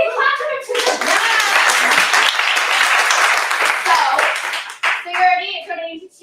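Audience at a small live comedy show claps for the venue host, a lively burst of close applause with scattered whoops, fading out as a voice speaks at the end.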